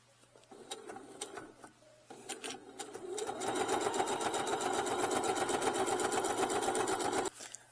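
A sewing machine top-stitches a leather wallet. A few short bursts of stitching come first, then one long continuous run of rapid needle chatter, close and clear, stopping abruptly.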